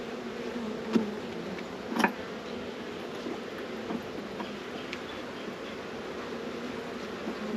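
Honeybees in a newly set up hive buzz after being disturbed during an inspection, a steady faint drone with a couple of sharp knocks early on.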